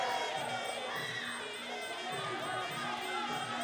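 Spectators on their feet at Simbi Boxing Stadium during a late-round MMA fight, a continuous roar of cheers and shouts filling the arena, with commentary faintly underneath.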